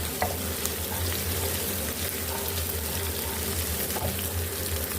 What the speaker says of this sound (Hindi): अब इसमें हम लहसुन अदरक कुटा हुआ और साथ में हरी मिर्ची कुटी वो डाल लेंगे और इसको हमने फ्राई कर लेना है।